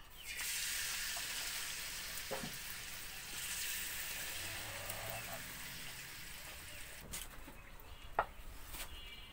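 Amadi fish hit hot oil in a pan, giving a steady broad sizzle and hiss at moderate loudness with a few small clinks and pops, close by and without talk.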